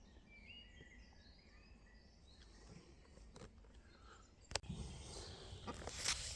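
Faint bird song drifts through a damp woodland at a wild campsite, scattered chirps over a soft outdoor hush, with a couple of brief nearby rustles or knocks and no talking.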